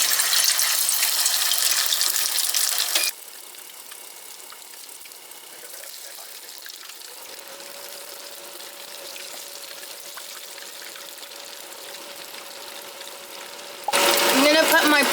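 Pipa tofu fries in hot oil with a bright, loud sizzle that drops to a softer, steady bubbling for most of the stretch, then flares up loudly again near the end.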